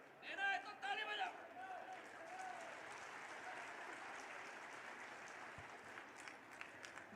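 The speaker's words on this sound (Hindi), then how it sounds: "देना है तो ताली बजाओ" A voice briefly speaks over a political rally crowd in Gwalior, then broad, continuous applause spreads through the gathering and holds steady at a moderate distance.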